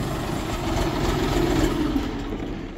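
A steady, low three-cylinder beltless rear-wheel-drive tractor engine idles nearby, a continuous rumbling drone with no breaks.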